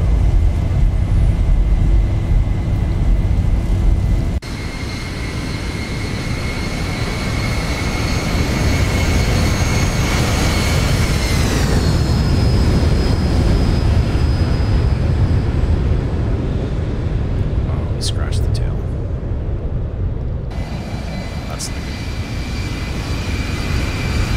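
Simulated Boeing 737 jet engines in the Zibo 737 mod for X-Plane 11, during pattern practice at Creve Coeur Airport, spooling up: a loud steady drone with whining tones that climb in pitch midway, then hold at high power.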